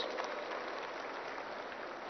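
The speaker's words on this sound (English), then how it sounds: "I think they deserve a big round of applause for this" Conference audience at a green property show applauding, a soft, even wash of clapping heard from a distance without any voices.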